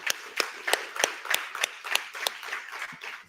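An audience at a tech summit innovation session in Bengaluru gives a round of applause. Distinct, evenly spaced claps ring out at moderate volume for about three seconds without talk.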